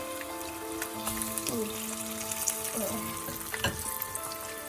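Salmon fillet frying in a hot pan for teriyaki salmon, a steady close sizzle with light spattering crackles throughout, no talking.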